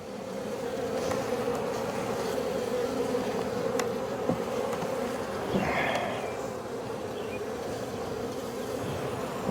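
Honeybees drone steadily in an open hive full of brood frames during an inspection, a dense, continuous buzz close by with faint handling knocks and no speech.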